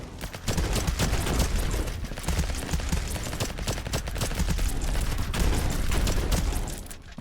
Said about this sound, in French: Mitrailleuse niveau 3, ouais,